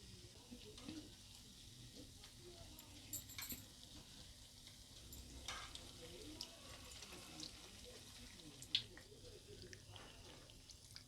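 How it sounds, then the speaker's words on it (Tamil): Bread slices frying in hot oil give a steady, faint sizzle with scattered crackles and small pops, and a voice talks over it. "இப்போ இந்த ஆயிலில் இந்த ப்ரெட்டை பொரித்து எடுத்துக்கலாம்."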